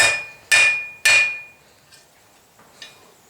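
A hammer forges metal for a padlock key on an anvil: three loud, ringing metallic blows half a second apart, each decaying with a bright tone, followed by a few faint light taps.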